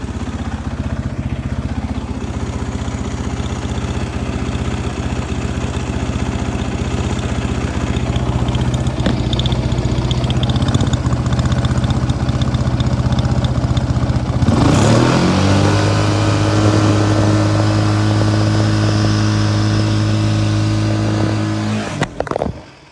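A 2009 Honda CRF 450X enduro motorcycle engine held steadily at about 5000 rpm, a loud continuous drone that shifts pitch midway and then holds a steady higher tone before cutting out near the end.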